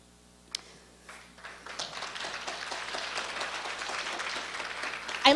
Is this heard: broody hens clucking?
no